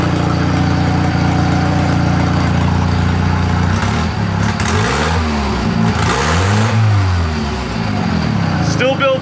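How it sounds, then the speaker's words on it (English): A car engine with an exhaust leak idles roughly and then revs up and down in several swooping pulls, loud and close, with a raspy, ticking edge to the exhaust and a voice briefly talking over it. "That fucking exhaust leak."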